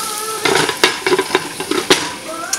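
Vegetables frying in a pan with a steady sizzle, broken by repeated scrapes and clinks of a utensil stirring against the pan, close and fairly loud with no talking.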